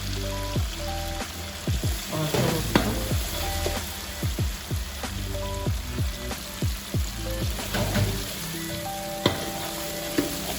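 Margarine and vegetable oil frying in a large pot, a continuous crackling sizzle with dense popping spatters and occasional louder pops, close and steady throughout.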